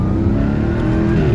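Jaguar F-Type R 75 with a 5.0 V8 and sport exhaust opened up, engine note rising steadily as it accelerates, a loud, dense low rumble filling the whole moment without pause.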